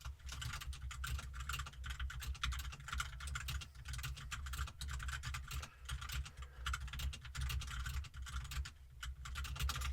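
Continuous, close typing on a computer keyboard fills the whole stretch with quick, soft, irregular clicks of notes being entered during a relaxed job recruiter phone screen roleplay.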